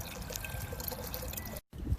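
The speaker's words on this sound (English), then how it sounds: "I'm just going to fill up this watering can right now" Water trickles and splashes into a garden watering can being filled, a soft, close, steady liquid stream that cuts out briefly near the end before resuming.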